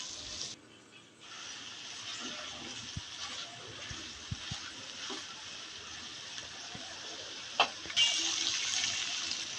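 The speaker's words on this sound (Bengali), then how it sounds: "দিয়ে দেব 1 কাপ পানি" Water poured into a pan of dried ribbonfish cooking with onion greens makes a steady, soft rushing hiss that runs almost without a break, with a brief louder splash near the end.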